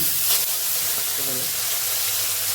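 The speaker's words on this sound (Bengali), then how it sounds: "কই মাছটা এখন ভেজে নিচ্ছেন" Koi fish fry in hot oil, a close, continuous hissing sizzle with a brief louder crackle near the start and faint background murmur.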